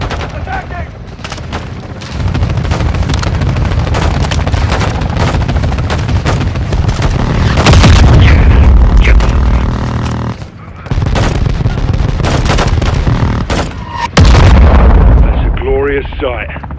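Air strike explosions hit a building in Call of Duty Modern Warfare II, with heavy gunfire and rolling blasts and several loud, deep booms partway through, mixed with battle chatter and voices over the combat.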